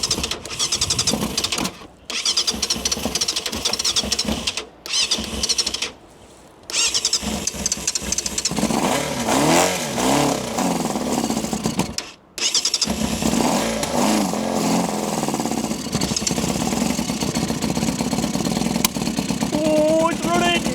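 A barn-find Yamaha FZR 600R motorcycle engine cranks, catches and runs roughly on choke, revving and stumbling with brief cutouts before settling into a ragged idle, close and loud, with people talking over it.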